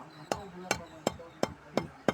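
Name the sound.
cutting a marudhai tree stick for planting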